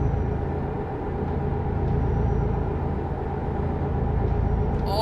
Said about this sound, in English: This truck's making a lot of noise.